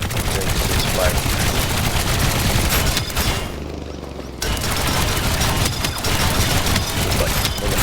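A twin-blaster assault rifle in the Trailmakers game fires in loud, dense rapid bursts, pausing briefly midway before the fire resumes.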